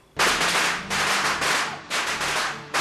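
Firecrackers thrown at a fake ghost in a haunted-house film scene crack in a dense crackling burst, several loud sustained sputtering volleys one after another with brief gaps between them.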